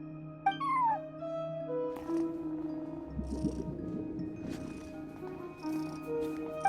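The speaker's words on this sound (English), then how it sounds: "No one except for a cat watching over the front desk." A cat in the video game Genshin Impact gives a short meow, then purrs softly and steadily, with a few faint chirps over quiet synthetic background tones.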